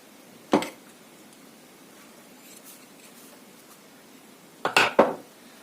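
Fabric being snipped through the middle with scissors while shaping a fabric rose latkan, two short crisp cutting bursts separated by a quiet pause, close and clear with no talk.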